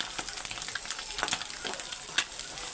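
Egg frying in a pan with turmeric and a pinch of masala powder for egg fried rice, a steady close hiss of sizzling with soft scraping stirs now and then and one sharper clink near the end; no talking.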